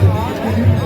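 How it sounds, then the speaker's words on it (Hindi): A dense crowd gathered at a temple in Mana village after the evening aarti, a close babble of many voices with loud chatter all around. "देखिए गाइस भीड़ कितनी लगी है यार"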